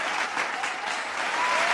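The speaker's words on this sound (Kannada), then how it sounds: "ಬಲಗೈ ಎಡಗೈ ಒಟ್ಟಾದ್ರೆ ಒಂದು ಸೌಂಡ್ ಬರುತ್ತಲ್ಲ, ಅದೇ ಚಪ್ಪಾಳೆ." Steady, dense audience applause at an award ceremony honouring a recipient with the KNB Kannada Seva Ratna award, a full room clapping continuously for the whole stretch without a break.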